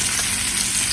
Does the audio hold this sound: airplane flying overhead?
no